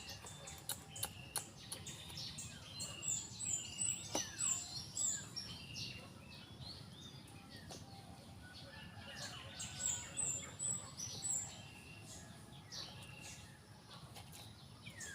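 Pigeons moving and fluttering about, with soft wing patter and scattered short chirps over a low background hum, fairly faint throughout.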